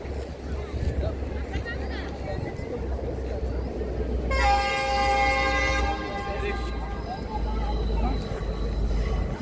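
A train horn sounds in Ella, Sri Lanka, a long, loud blast with rich harmonics over a steady rumble of the passing train, with people talking throughout.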